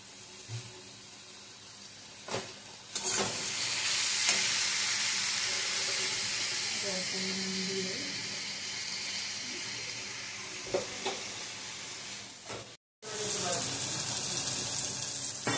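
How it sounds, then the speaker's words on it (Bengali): Chopped tomatoes sizzling steadily in a hot pan, a loud hiss that runs on with a few scrapes and clicks, breaks off briefly, then picks up again. "এর মধ্যে টমেটো কুচিগুলো দিয়ে দিলাম।"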